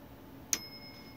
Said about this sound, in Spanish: ¿Y por qué se mueve este martillito golpeando así repetidas veces